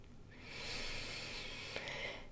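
A slow, soft breath out during a guided self-love meditation: a single long airy exhale lasting about two seconds, quiet and close, with no talking over it.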